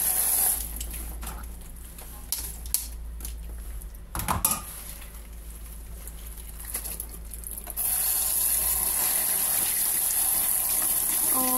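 Water gushing and pouring steadily while something is washed in boiling water, a continuous splashing rush that shifts partway through into a steadier, louder flow, close by with no talk.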